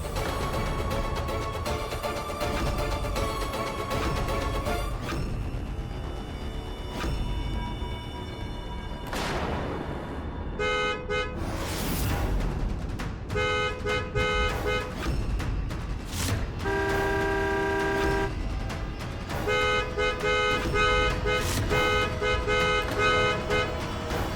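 Car horn honking at someone in the road during a Hindi TV drama, with several tonal toots amid traffic noise and background music.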